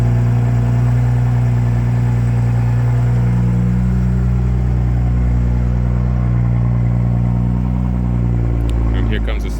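A car engine idles loudly at the raised speed of its first warm-up stage just after a cold start, holding a steady droning hum throughout before easing slightly at the end.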